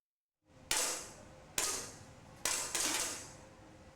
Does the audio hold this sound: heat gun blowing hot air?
no